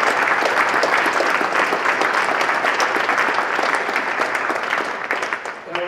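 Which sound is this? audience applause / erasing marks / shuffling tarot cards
audience applause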